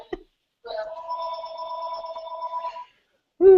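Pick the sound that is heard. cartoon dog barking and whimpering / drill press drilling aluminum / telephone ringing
telephone ringing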